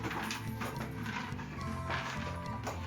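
A Mapuche gourd rattle filled with small pebbles, shaken in a quick steady rhythm of dense rattling clicks, close and fairly loud, with no talk over it.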